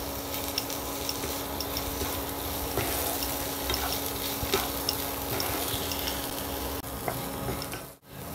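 Ginger, garlic and green chili paste frying with chopped onion and garlic in a pan, a steady close sizzle with occasional stirring scrapes, no talking.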